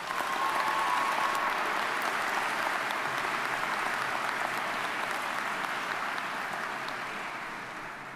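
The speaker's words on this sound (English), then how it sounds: "So let's take a moment to give them a big round of applause." A large crowd claps in a big round of applause at a Duke MBA and PhD graduation ceremony in Cameron basketball stadium, a broad, even roar of hands holding steady for several seconds and easing slightly toward the end.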